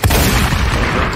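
Rocket launcher explosion in a video game, a loud booming blast with a sharp onset followed by a dense, sustained rumble lasting about a second.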